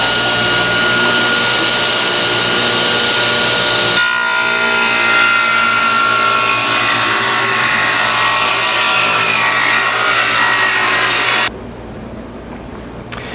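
A power saw rips twisted, warped framing lumber into 1.5 inch square stock, a loud continuous whining cut that changes pitch midway and then drops to a quieter motor run-down near the end.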